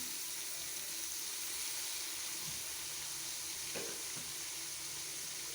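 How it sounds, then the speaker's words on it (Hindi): Chicken mince for spring rolls frying in two spoons of cooking oil with garlic-ginger paste, giving a steady, even sizzle with a few faint stirring knocks from the pan. "लहसुन अदरक का पेस्ट और 2 चम्मच कुकिंग ऑयल में स्प्रिंग रोल के लिए, और ये जो चिकन का कीमा था वो साथ मैंने डाल दिया"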